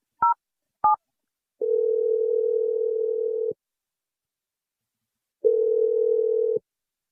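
A landline telephone dialling out for a radio show call: two short keypad tones, then two long steady ringback buzzes separated by silence, clean and close with no voices.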